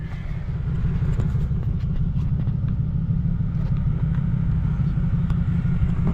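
Cabin drone of a Lexus LS400 on newly installed air suspension driving: a loud, steady low rumble of engine and road noise with faint rattles, continuous and close, no talking.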